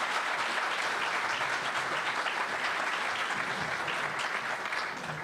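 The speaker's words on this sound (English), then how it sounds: "Can we give the candidates again a round of applause?" An audience at a bipartisan community forum applauds the candidates with dense, sustained clapping that fills the room and tapers only slightly at the end.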